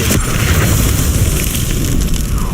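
A fire spell explodes in Hogwarts Legacy on Hard difficulty, a loud, full-bodied boom with a roaring burst of flame that fills the moment without any voice over it.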